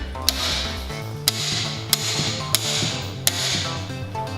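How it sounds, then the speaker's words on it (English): A hammer strikes a seized pulley on a Mazda Miata 1.8 engine being prepped for a swap. There are five sharp metallic blows at uneven intervals in a quiet garage, each one clear and close. "I'm just trying to see if I can break this loose by hitting it with the hammer."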